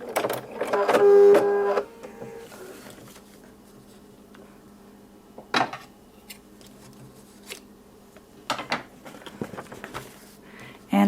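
A sewing machine stitching a quilt block, a short loud burst of rapid stitching near the start followed by quieter intermittent clicks and handling noises.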